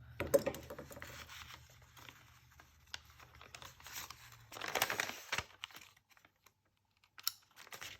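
Brown paper bag being cut with scissors, giving close, quiet snipping and scratchy crinkling in short irregular bursts, with a few brief pauses between cuts.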